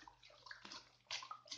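A liquid mixture of dough and water, about 30 liters to 125 grams of dough, being stirred by hand in a container, giving faint sloshing and swishing bursts, with two stronger splashy strokes.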